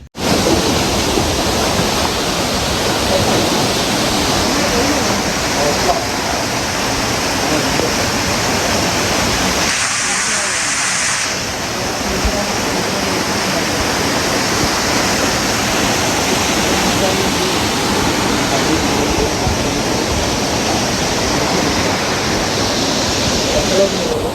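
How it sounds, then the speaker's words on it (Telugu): A loud, constant rush of falling water at Penchalakona waterfall in Lankamala Forest fills the whole stretch, a dense roar that barely changes except for a brief dip. "గైస్ ఫైనలీ మనం వాటర్ ఫాల్ దగ్గరికి అయితే వచ్చేసాం"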